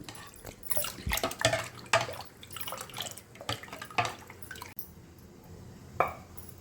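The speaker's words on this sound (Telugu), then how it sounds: "కుక్కర్లోకి తీసుకొని శుభ్రంగా కడుక్కొని ఒక గ్లాస్కి ఫోర్ గ్లాస్ వాటర్ యాడ్ చేసుకోవాలండి" Water splashes and trickles unevenly into a pressure cooker holding soaked horse gram, with irregular pours and drips close up in a kitchen.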